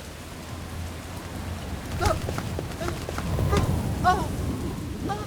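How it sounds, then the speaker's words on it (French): Steady rain patters nearby as a constant wash of noise in a cartoon road-safety scene, with a few faint higher-pitched cries or calls surfacing briefly in the middle. "Et en plus, cette pluie n'arrange rien."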